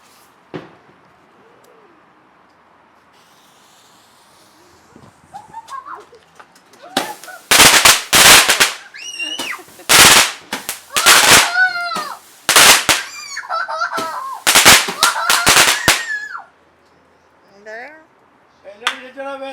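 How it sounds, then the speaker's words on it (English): Fourth of July fireworks go off close by at night in a rapid, crackling burst of loud pops and bangs lasting several seconds, with whistling tones between blasts and people talking and cheering around them. "We're about to pop our first firework of the night."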